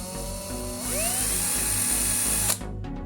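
A small high-pitched drill fitted with a 0.8 mm bit whines steadily while drilling holes, spinning up and holding a shrill tone for a couple of seconds before cutting off abruptly.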